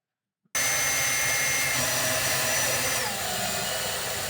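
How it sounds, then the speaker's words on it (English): A power drill bores a hole into the lower cubby of a 2019 Golf R, starting abruptly after brief silence and whirring loud and steady up close, with a slight change in pitch partway through. "I'm gonna drill the hole in this top corner back here"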